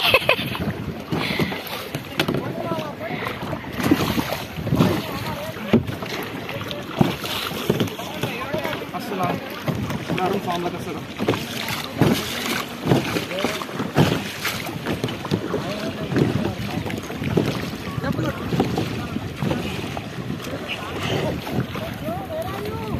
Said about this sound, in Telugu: అది పట్టుకో, తెప్ప పట్టుకో.